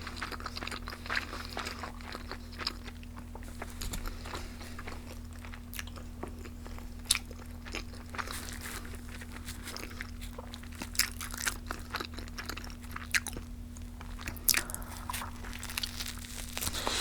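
Close-up eating of a McDonald's sausage McMuffin with eggs, with constant soft crunching, moist chewing and occasional crinkles over a low steady electrical hum, no talking.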